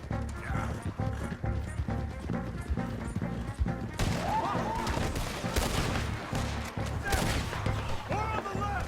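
Gunfire in a frontier shootout in the video game Red Dead Redemption 2, rapid shots and bursts over shouting voices, horse hooves and general battle clamor, growing denser and louder partway through.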